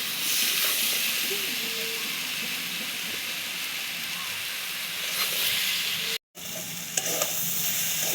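Coriander, cumin, salt and turmeric spices with a splash of water sautéing in a pan for a chana dal curry: continuous close sizzling hiss with occasional stirring scrapes, a brief dropout near the end.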